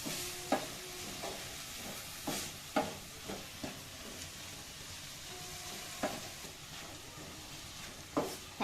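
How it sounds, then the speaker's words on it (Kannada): Palak spinach fries quietly in a pan: a soft, continuous sizzle punctuated by scattered clacks of a spatula stirring against the pan, with no voices. "ಪಾಲಕ್ ಸ್ವಲ್ಪ ಫ್ರೈ ಆಗ್ತಾ ಇದೆ"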